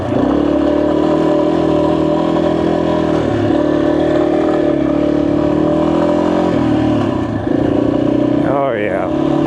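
A Yamaha XT250 motorcycle engine drones steadily at close range through the ride, with shifts in pitch as the revs change and a brief rise near the end, running under continuous rider talk.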